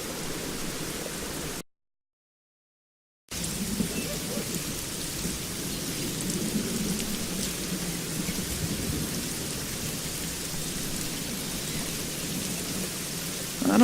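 Heavy rain pours steadily with rumbling thunder in the video game Secret Files: Tunguska, a dense wash of downpour broken by a brief silent gap early on.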